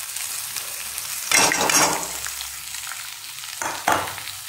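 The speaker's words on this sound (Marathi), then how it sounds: "आता कांदा लाल झालेला आहे, त्यात आपण हे सर्व पोहे टाकून घेऊ" Poha is tipped and stirred into onions frying in a pan: a continuous sizzle swells into two loud, crackling bursts as the flakes hit the hot oil and are tossed.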